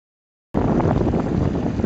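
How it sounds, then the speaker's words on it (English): A small dinghy heads across Roscoe Bay in Desolation Sound, British Columbia, with a loud, close rush of motor, water and wind noise that starts abruptly after half a second of silence. "We're in a little dinghy coming towards the Klasact over there."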